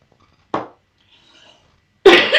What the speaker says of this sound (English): my cough is nice and productive and wet.